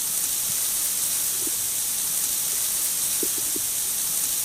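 Water spray in the Talking Tom Friends video game, a continuous bright hiss of spraying water washing mud away, steady and fairly loud, with a few faint low blips underneath and no talking.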